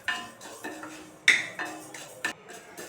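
Raw rice being dry-roasted and stirred in a pan for a traditional urad dal upma, giving sparse scraping clicks and light clinks of the spoon against the pan, with a faint dry rustle between strokes.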